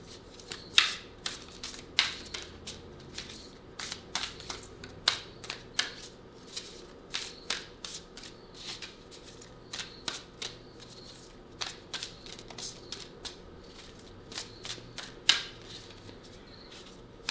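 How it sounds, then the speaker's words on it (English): Oversized tarot cards being shuffled by hand, a steady run of crisp riffling snaps and flutters repeating roughly every half second, close and clear with no talking. "I feel like Dante Culpepper fumbling the cards"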